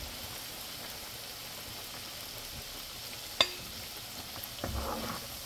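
Chicken wings fry in plenty of oil in a pan, giving a steady, even sizzle with a soft hiss throughout, one brief sharp click partway through, and a slight swell of crackling near the end.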